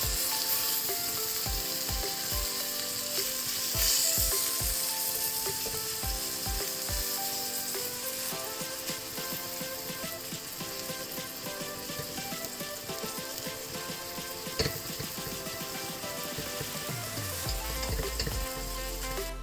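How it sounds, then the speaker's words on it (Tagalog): Garlic, onion and tomato sautéing in a hot pan, a steady loud sizzle and crackle running throughout with occasional stirring scrapes, no talking. "Gisahin na natin. Garlic, onion, saka kamatis."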